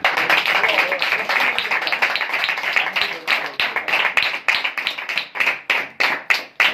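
An audience at a New Year spiritual education meeting claps loudly and steadily. The rhythm is fast and continuous at first, then breaks into sharper, more spaced claps, with voices faintly mixed in.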